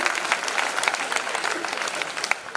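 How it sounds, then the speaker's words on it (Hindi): An audience at a live Hindi comic poetry gathering (hasya kavi sammelan) claps in steady, dense applause throughout, moderately loud with no break. "एक बार जोरदार तालियां बजाई के लिए।"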